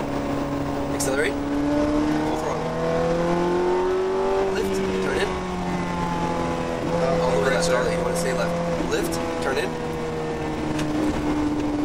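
A car engine revs up and pulls hard, pitch climbing and dropping through gear changes, loud and close, with someone talking over it.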